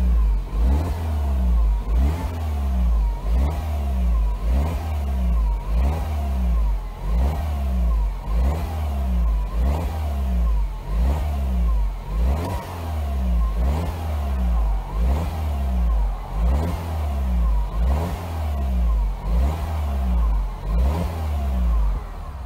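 A Silver Coupe FJCW car engine runs just after start-up, a loud, close, steady mid-pitched drone with a regular pulsing rhythm holding for over twenty seconds, alone without talk.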